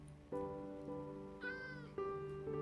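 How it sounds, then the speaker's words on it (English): A cat in a modded life-simulation video game gives a few clear, tonal meows, each drawn out, at moderate level with no talking over them. "I know it's not my cat because it's in the game."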